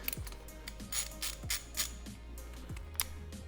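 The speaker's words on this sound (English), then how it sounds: "So we'll take an 11mm ratchet and we'll loosen the 1, 2, 3, 4 bolts holding on the header." An 11mm ratchet loosening header bolts on an LS2 engine, with quiet clicking pawl ratchets in short bursts and faint metallic handling noises nearby, no talk.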